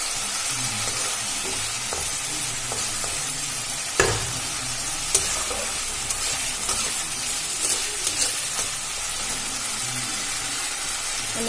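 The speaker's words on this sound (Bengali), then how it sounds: "মশলাটা আমার ভাজা হয়ে আসছে। এবার দেখুন যে তেল ছেড়ে দিয়েছে।" A spice paste for vegetarian chickpea dal fries in oil that has begun to separate. The close, continuous sizzle is broken by spoon scrapes and occasional clinks against the pot as it is stirred.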